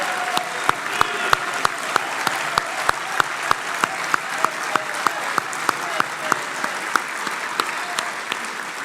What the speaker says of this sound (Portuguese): liderada pela Manuela Estevão, quem peço uma salva de palmas